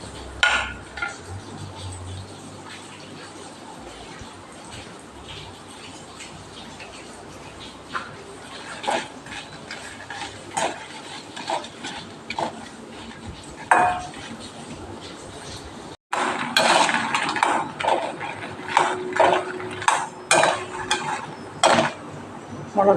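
Kashmiri and hot red chillies fry in oil in a pan, with scattered clinks and scrapes of a spoon against metal and a soft sizzle underneath, occasional voice in the background.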